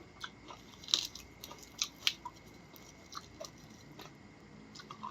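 Crunchy green papaya salad with fresh shrimp being chewed late at night, close and quiet, with a series of crisp bites and crunches at irregular intervals.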